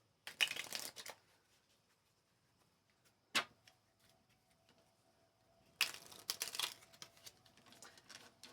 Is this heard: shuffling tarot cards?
yes